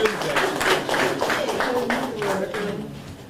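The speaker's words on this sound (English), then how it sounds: "We can clap one more time." A small audience claps in a quick burst of hand claps, with voices talking over the applause as it fades.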